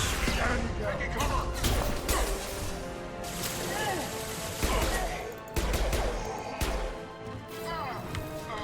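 Pistol fire and a concussive shot in the video game Mass Effect 2 ring out as repeated sharp blasts and crashes over a steady bed of game noise, with a voice talking through the action.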